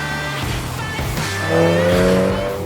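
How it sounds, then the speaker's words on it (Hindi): A Mini Cooper JCW in sport mode shifts up with a brief wheel spin, its engine note rising and dropping with squealing tyres, loud and close. "जब आप स्पोर्ट्स मोड में जाते हैं हर एक शिफ्ट के साथ जो पावर आती है, जो व्हील स्पिन की आवाज आती है"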